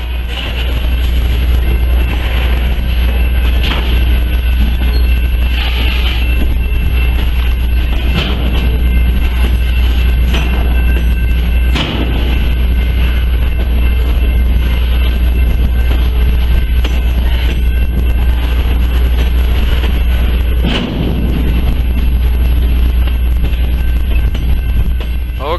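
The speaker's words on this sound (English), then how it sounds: "right now they're entering a yard limit, so the train's not going that fast" A train moves slowly into a rail yard along the Columbia River, with a loud, constant low rumble and occasional clanks, heavy wind buffeting the microphone, no voices.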